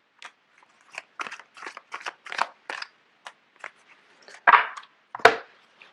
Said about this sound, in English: I'm going to put these in and shuffle it again because too many came out.